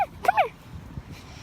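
A dog gives a few short, high whimpering yips close by, then quieter snuffling in a brief, otherwise hushed moment.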